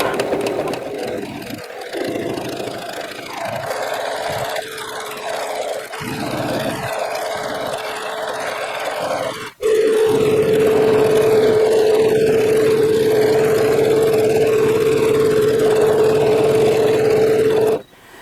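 A sewing machine stitches a quilted gnome table runner in continuous runs. Short bursts of stitching give way to one long, steady whirring hum that stops abruptly near the end. No voices are heard.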